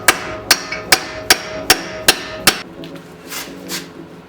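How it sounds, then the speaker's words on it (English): A hammer strikes a punch set in the end of a Nissan Rogue axle, eight sharp metallic blows in an even rhythm, close and loud, followed by a few softer knocks. "take a punch and put it in the indent in the end of the axle, and then hammer on that"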